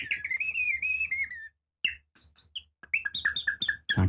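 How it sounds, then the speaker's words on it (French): A common blackbird sings clear, fluting whistled phrases in several bursts with short pauses between them, near and fairly loud. "C'est le merle noir."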